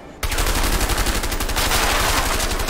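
Rapid gunfire from the A Way Out video game bursts in loud and close after a brief quiet start, then rattles on continuously in dense automatic volleys for the rest of the clip.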